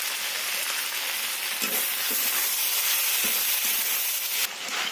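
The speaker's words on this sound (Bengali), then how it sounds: "এতে দিয়ে দেব ছোট চামচের এক চামচ কাশ্মীরি লঙ্কা গুঁড়ো" Ivy gourd frying in a pan with Kashmiri chilli powder, a loud, steady broadband sizzle close by that runs throughout, broken by a few soft stirring knocks.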